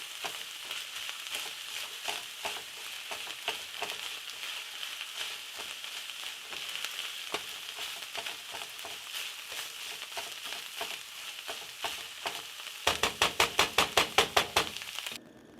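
Sausage fries in a pan for stuffed shells filling, a steady close sizzle and crackle running throughout, ending with a quick burst of rhythmic knocking near the end.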